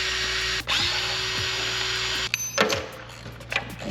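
A power tool, likely an impact driver or drill, whirs steadily while backing out the two Allen bolts on the starter of a Harley-Davidson Twin Cam engine in a Dyna, then stops and gives way to clinks of metal parts being handled.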